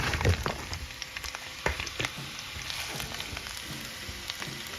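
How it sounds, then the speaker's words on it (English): Vegetables frying in a hot oiled pan, a steady soft sizzle with crackles and small pops, close and fairly quiet, no talking. "Okay, so we got our pan and oil hot. Now what we're gonna do is we're gonna add these veggies right to this."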